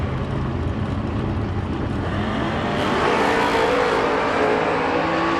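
A Mustang drag race car launches down the strip at a Door Wars event, its engine roaring loud and continuous and rising in pitch as it accelerates away.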